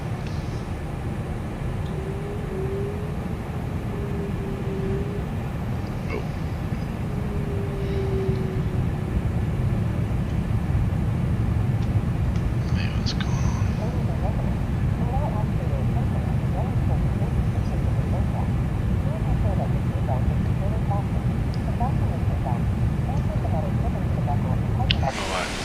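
Airbus A330 jet taxiing toward the runway at Frankfurt in Microsoft Flight Simulator 2024, a steady low engine rumble and whine holding level throughout, with a few faint clicks.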